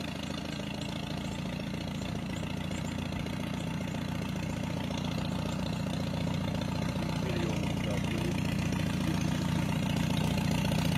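A Farmall H tractor engine idles with a steady low rumble that holds constant throughout, no other sounds standing out.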